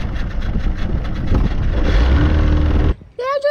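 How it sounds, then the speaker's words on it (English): A small boat's engine running steadily near a dinghy on a Scottish Highland shore, a loud continuous rumble for about three seconds that cuts off abruptly, followed by a brief excited voice. "The engine's working!"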